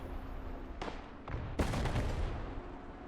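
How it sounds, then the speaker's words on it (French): A few sharp booming cannon blasts in a competitive video game match, one short burst then a louder one, followed by a rumbling tail against a low game background. "Le canon qui a été fait sur Zetrox."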